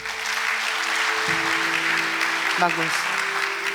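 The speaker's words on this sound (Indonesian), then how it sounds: "Anak muda bisa tepuk tangan." A church congregation at a Sunday service claps in steady, sustained applause that fills the room, with a voice speaking briefly over it.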